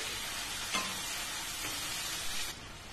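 Tomato paste sizzles over ginger in a hot pan for prawn pulao, a steady close hiss broken by a couple of sharp utensil clinks before it softens near the end.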